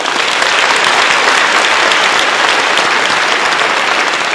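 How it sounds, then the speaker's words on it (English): Loud, dense applause from a banquet audience at an American Chamber of Commerce dinner in Taiwan, steady and close throughout with no speech over it. "Let's give a big round of applause to our incredible staff for making this evening possible."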